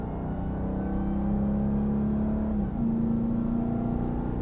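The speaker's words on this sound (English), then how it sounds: "you're squeezing on the gas, letting it blend out to the right" A 2021 Dodge Durango SRT Hellcat accelerating on a track: a close, steady engine drone with a whining tone that climbs, dips briefly, then resumes and holds on.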